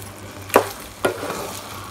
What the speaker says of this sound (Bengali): আর কয়েকটা গোটা কাঁচা লঙ্কা খুব ভালো করে মিশিয়ে নেব